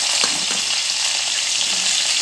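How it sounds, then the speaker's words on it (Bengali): Bitter gourd and potatoes frying together in hot oil in a pan, a dense, even hiss of sizzling that holds steady throughout with a few faint stirring touches, close and without voices. "উচ্ছেটা ভাজা হওয়ার পরে মা এরপর আলুগুলো দিয়ে দিচ্ছে মধ্যে"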